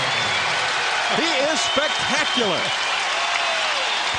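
Arena crowd cheers and roars after Steve Francis's dunk against Duncan's team in an NBA game, with broad steady noise, squeaking sneakers and an announcer talking over it.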